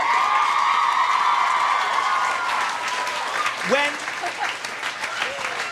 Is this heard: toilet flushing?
no